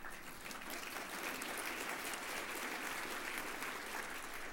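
Steady applause from a meeting audience, many hands clapping evenly and filling the room for several seconds without pause.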